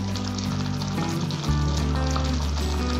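Dal with fresh coriander being stirred in a pan, heard as a close, steady frying sizzle with a low rumbling tone underneath, no voices.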